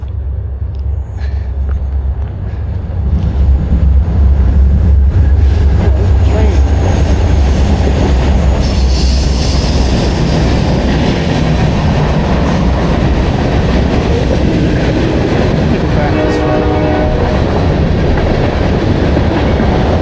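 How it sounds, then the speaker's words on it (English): A train rumbles past nearby on the Montour Trail in Coraopolis, loud and steady, with heavy low roar, clattering wheels and a brief metallic squeal partway through. "see if I can get that train on video."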